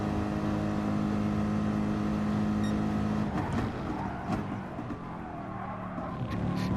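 A Gr.3 race car at Spa in the Gran Turismo Sport video game roars along at a high, steady engine pitch held in a higher gear, then shifts and squeals its tires through a corner.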